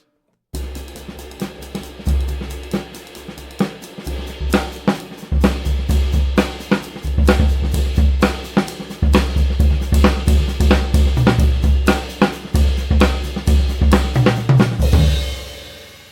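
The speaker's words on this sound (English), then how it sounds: "He started playing the hi-hat on all four notes like that, so it would sound like this." A rock drum kit plays a heavy beat with the hi-hat struck on all four beats, deep kick and snare accents, loud and close, steady throughout with no talking.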